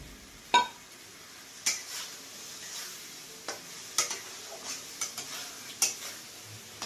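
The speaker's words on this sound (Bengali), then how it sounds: "এবার ভাজা চিংড়ি মাছ দিয়ে দিলাম।" Fried prawns tossed into a pan sizzle softly beneath a series of distinct spatula knocks and scrapes against the metal, spaced irregularly across the clip.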